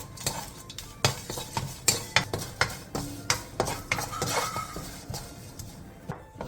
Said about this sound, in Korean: 마른 팬에 깐멸치 한 컵을 넣고 센 불에서 2분에서 3분간